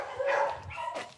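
A rescued dog, stressed in a shelter, lets out a couple of quick, close barks with a whiny edge in a brief burst.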